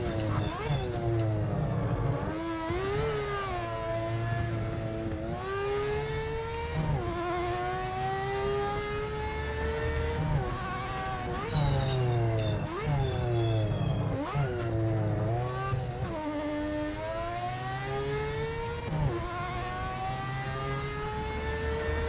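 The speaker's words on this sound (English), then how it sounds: "Do like the sound of this car" A racing car engine in the video game Project Motor Racing revs up and down repeatedly, gears rising and falling in pitch over a steady rumble, loud and continuous.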